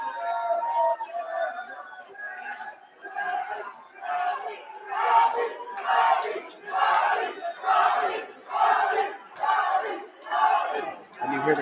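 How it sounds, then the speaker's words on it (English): An arena crowd at an amateur mixed martial arts event chants rhythmically in rising and falling waves for a fighter, loud and rowdy, repeating roughly every second with voices blending together. "you hear the crowd here rooting for David Bradley"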